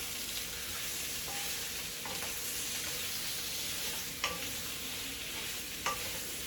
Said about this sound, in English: So I have my smoked sausage here. See that? It's cooking up.